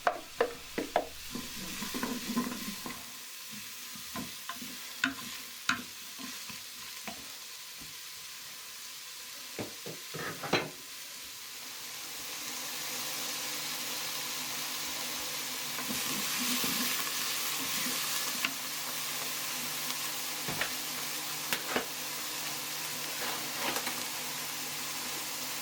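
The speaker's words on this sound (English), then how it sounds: "all we're going to do is sweat those down for about 5 minutes or so" Vegetables sweating down in a frying pan for beef lasagne, with a steady broadband sizzle and frequent sharp clicks and scrapes from stirring. The sizzling grows a little fuller midway, and no one speaks.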